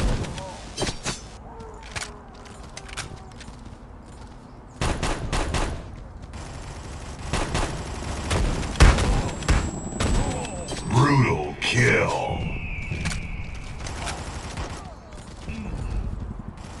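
Gunfire in the mobile shooter Guns of Boom, with bursts of rapid shots and single cracks separated by short pauses, heard alongside game announcer calls and effects.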